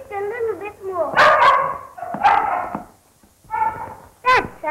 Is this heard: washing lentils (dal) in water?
no